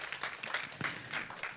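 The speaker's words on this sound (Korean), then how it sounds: "우리 다시 한번 하나님께 감사의 박수 올리겠습니다." A church congregation applauding in thanks during a Korean sermon, a brief burst of scattered clapping at moderate distance.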